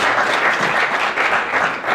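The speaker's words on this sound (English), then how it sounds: "Big round of applause." An audience at a 1 Million Cups startup pitch event in Sacramento gives a big round of applause, steady dense clapping that fills the room for a couple of seconds with no talk over it.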